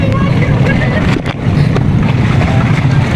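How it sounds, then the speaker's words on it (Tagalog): Strong sea wind and waves at a shoreline cooking spot: a loud, continuous roar of wind buffeting the microphone over the wash of surf, with a brief dip midway. "Ang lakas po ng alon dito mga katrops at ang lakas ng hangin."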